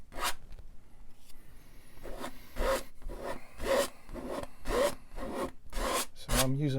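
A palette knife scraping oil paint off a palette: a run of short, rasping strokes in an uneven rhythm, close and fairly loud, with no talking.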